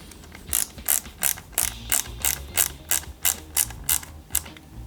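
A screwdriver drives small screws into an Ecto-1 model kit from Ghostbusters, making a close, even series of about a dozen ratcheting clicks with a low hum underneath and no speech.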